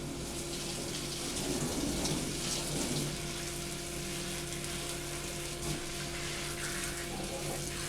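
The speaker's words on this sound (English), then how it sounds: "here's one thing that's very cool. A coolant nozzle." Coolant sprays steadily from a nozzle inside a Haas Mini Mill 2 CNC machine as a continuous, soft, even hiss under the machine's hum.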